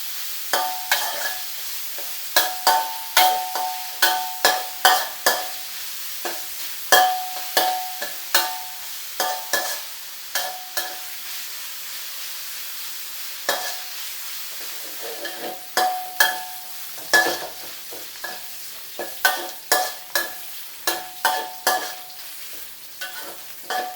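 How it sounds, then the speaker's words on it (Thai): Pork belly and curry paste are stir-fried in a pan, with a sizzling bed broken by a long run of sharp, rhythmic spatula scrapes and clanks against the metal, close and fairly loud, with no talking. "ผมจะรวนหมูประมาณนี้นะครับ"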